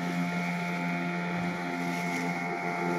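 Two boats racing across the sea at night near Malvan, a continuous engine drone with steady tonal hum and faint wind rush, unbroken and without speech.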